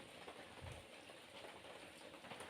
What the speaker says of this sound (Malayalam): ഓരോ ട്രിപ്പായിട്ടാണ് മഴ പെയ്യുന്നത്.